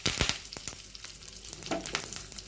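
Spices, curry leaves and dried red chillies crackle and sizzle in hot oil up close for a tempering, with sharp irregular pops over a soft frying hiss.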